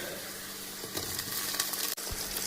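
Cumin seeds and tomato sizzle in hot oil in a pan for spicy tur dal, a close, steady frying crackle throughout with no talking.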